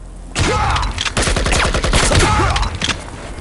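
Gunfire in the shooter game Project IGI, a loud close burst of rapid shots with a dense ringing tail lasting about three seconds, no voices over it.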